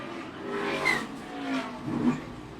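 Onboard sound of a NASCAR Sprint Cup race car in 2015 braking hard, engine note and tire squeal rising and falling in a few swells, close and fairly loud.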